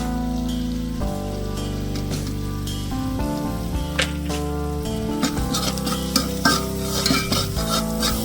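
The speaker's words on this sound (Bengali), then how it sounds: "এখন টমেটো দিয়ে আর একটু কষাবো।" Spices and tomatoes cook in a pot for one-pot chicken rice, a steady sizzle with repeated stirring scrapes and soft clinks, fairly close, under a sustained tonal background hum.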